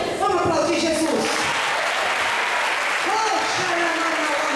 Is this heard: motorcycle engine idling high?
no